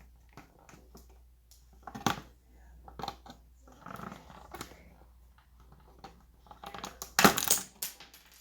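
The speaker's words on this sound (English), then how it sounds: "one of his police guns popped off and it fell to the floor." A small plastic police gun accessory from a Transformers Siege Barricade toy drops to the floor, landing with one sharp, brief clatter near the end after a few softer handling knocks.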